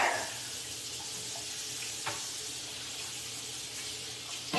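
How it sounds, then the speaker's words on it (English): Kitchen tap running into a sink while a seafood boil is prepared, a soft steady hiss of water at moderate distance, with a faint clunk midway and a louder splash or rattle at the very end. "I'm running water"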